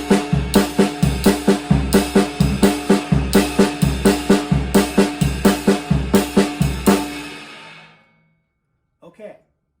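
A drum kit plays a Ted Reed independence exercise on ride cymbal, with steady, evenly spaced strikes and low drum hits over about seven seconds, then ringing out into near silence with a faint trailing sound.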